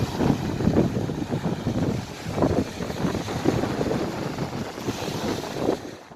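Strong lodos storm wind buffets the microphone while heavy waves break on a beach at Edirne's coast, a continuous loud roaring rush with gusty surges and no voices.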